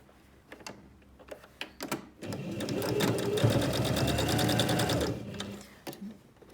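A sewing machine stitches a zipped make-up pouch in one steady, close, continuous run of needle chatter lasting several seconds, with a few brief handling knocks and clicks before and after it.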